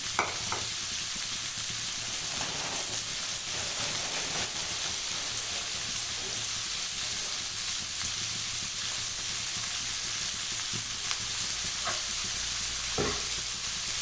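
Onions frying in a pan until golden give off a steady, even sizzle, with a few sharp clicks of stirring scattered through and no talk over it.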